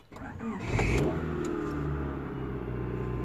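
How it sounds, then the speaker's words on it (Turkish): A Honda Prelude, unused for about a week after a main relay repair, cranks briefly and catches, its engine rising in a quick rev before settling into a steady close-up idle. "Bir de marş basalım."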